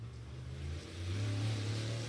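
Open wheel modified race car engine building revs at a dirt track during qualifying, a steady low growl that swells louder in its second half, heard alone without talk.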